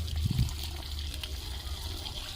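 Water poured on mango trees in summer trickles and splashes softly and steadily, a faint continuous pour with a brief gush near the start.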